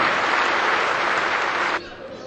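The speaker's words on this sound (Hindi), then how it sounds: "आपकी तालियां खुद में सूचित करें कि आप पहली बार आए हुए कवि का कितने मन के साथ सम्मान करें" An audience at a televised poetry gathering in MP applauds to welcome a first-time poet, loud dense clapping that carries evenly and then cuts off abruptly near the end.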